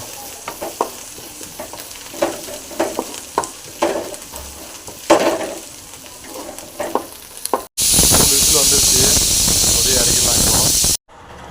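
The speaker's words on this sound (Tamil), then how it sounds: "இதையும் போட்டு நல்லா ஃப்ரை பண்ணிட்டு அதை ஆஃப் பண்ணிடலாம்" Onions and coriander are stirred in a pan for a thandu keerai kootu, first as intermittent scraping strokes and soft sizzles, then a sudden loud, continuous frying hiss for a few seconds before it cuts off.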